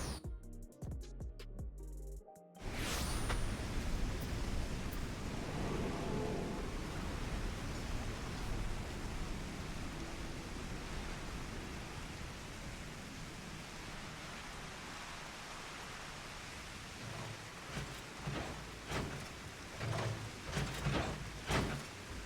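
Steady rain hiss in the video game Final Fantasy XIV Online fills the scene after an abrupt start, continuous and even, with some faint clicks and rustles near the end.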